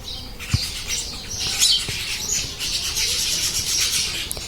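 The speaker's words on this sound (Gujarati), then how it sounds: "બાજાબાજ ચાલુ હોય ચકલીની" House sparrows squabble near scattered grain at a home, with sharp, excited chirps and squawks repeating in quick bursts, close by and fairly loud, alongside faint rustling.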